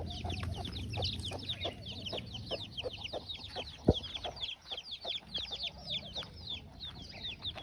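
Roosters and hens at a farm in Gariyadhar, including a black and a white rooster, cluck in rapid, overlapping chatter throughout, fairly soft and steady, with one sharp knock partway through.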